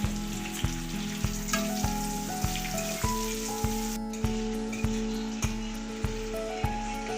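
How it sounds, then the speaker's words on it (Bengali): Large pieces of capsicum and tomato fry in a pan for egg do-pyaza, a continuous close sizzle with regular faint ticking clicks and a steady background hum. "ক্যাপসিকাম আর টমেটোটাকেও একটু হালকা করে ভেজে নেব"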